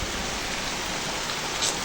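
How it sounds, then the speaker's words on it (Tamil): Light drizzle falling steadily in wet, rainy weather, a soft continuous hiss of fine drops with no voices, close and fairly quiet throughout. "சாரல் அடிக்குதா?"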